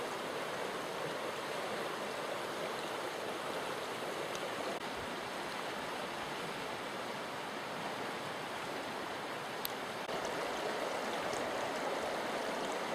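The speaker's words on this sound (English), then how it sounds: "a lovely valley of running water" Continuous rushing of flowing river water, a steady broad hiss with no voices, even and close throughout.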